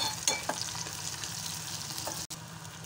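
A pan of ragi masala gravy for biryani, salted to speed frying, gives off a steady, fairly quiet sizzling hiss with a couple of soft stirring scrapes early on and no talk.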